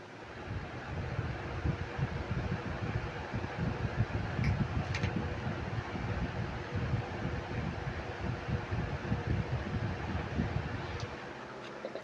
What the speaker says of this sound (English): I have a fan right here. Let's turn that on for a quick second.